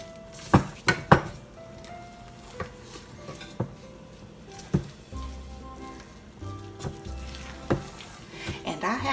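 White chocolate chips are worked into cookie dough by hand, giving irregular knocks, scrapes and clatters against the bowl at close range.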